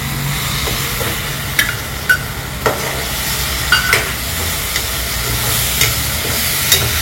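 Ginger-garlic paste and turmeric are sautéed in a pan for pav bhaji, loud close sizzling broken by repeated sharp scrapes and clacks of a spatula stirring, with no voices.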